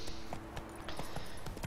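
Horse hooves in The Witcher 3 video game beat in a quick, regular rhythmic patter of soft thuds, heard under a steady wash of ambient game noise.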